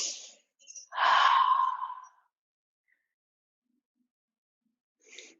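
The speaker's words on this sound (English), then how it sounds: "Breathe in, breathe out." Deep breathing in yoga child's pose: a soft inhale followed by a long, close, breathy sighing exhale, then several seconds of silence and a brief final breath.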